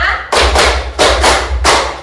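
Seventh-grade classroom in Indonesia clapping in unison, a counted set of five sharp group claps spaced roughly evenly, loud and close with no voices over them.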